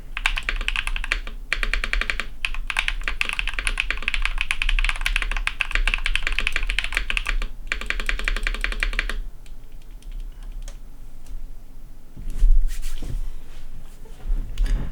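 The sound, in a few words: typing on Tofu 60 acrylic mechanical keyboard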